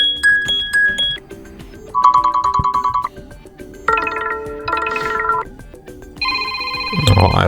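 Several pre-installed ringtones play in turn on a Sony Xperia Pro-I phone, each a short run of bright chiming, bell-like tones from the phone speaker, separated by brief pauses and heard close and clear.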